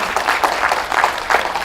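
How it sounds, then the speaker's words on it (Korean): A short burst of clapping from a lecture audience at a real-estate seminar, uneven and lively, fading after under two seconds. "그럼 박수를 쳐야지"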